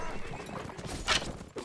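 Horse galloping in the medieval combat game Mount and Blade: Warband, rapid hoofbeats thudding under a busy battle mix with a sharp clash and a whinny.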